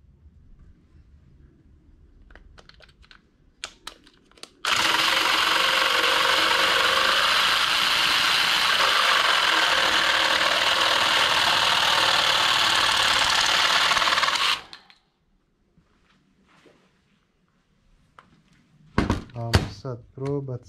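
A Parkside cordless reciprocating saw cuts steadily on a lower oscillation setting, a loud, even buzzing rasp lasting about ten seconds, with quiet handling noises before and a voice speaking after it stops.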